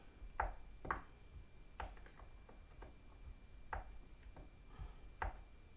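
A knife cuts a stick of butter into cubes on a board, giving soft, irregular knocks and taps, quiet and close.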